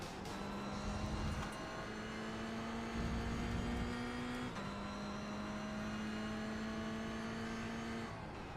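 Mazda MX-5 race cars battling during a 24-hour race, a steady engine drone with sustained tones shifting in pitch as the cars run close together, loud and continuous without speech.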